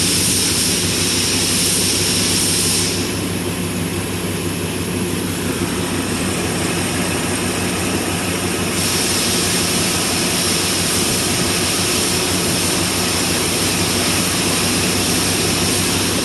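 Car engine idling steadily with the AC compressor running during a refrigerant additive test, a continuous loud whirring drone with fan noise and no talking.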